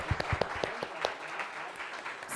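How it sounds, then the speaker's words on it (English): A moderate round of applause from an audience in a talk setting, with clapping that carries on steadily for about two seconds, mixed with some close individual claps. "Let's give a round of applause"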